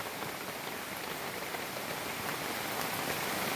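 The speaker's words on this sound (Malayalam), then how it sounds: "കണ്ടില്ലേ, മഴ പെയ്യുന്നത് കണ്ടില്ലേ?" Steady rain falls outdoors in a garden with an orange tree, a dense continuous hiss of drops striking surfaces close by, even in loudness throughout with no voices.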